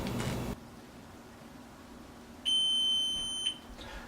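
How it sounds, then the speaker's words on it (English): A stove timer beeps once to signal chocolate chip cookies are done, a single sustained electronic tone of about a second standing out clearly over faint kitchen room noise. "So that noise tells us that our cookies are done."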